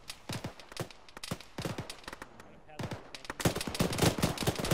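Machine gun fire in the military video game Arma, aimed at approaching enemy troops: rapid bursts of shots in uneven clusters, fairly distant, with brief pauses and a denser, louder burst near the end.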